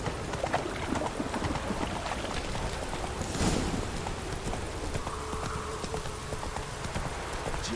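Roach the horse in The Witcher 3 trots along with steady, rhythmic clip-clopping hooves under quiet game ambience, at moderate volume with no talk.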